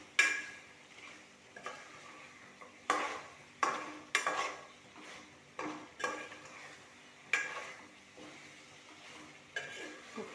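A spoon stirs masala with coriander powder in a pan, each scrape and knock coming in regular strokes about once a second, close and moderately loud over a faint sizzle.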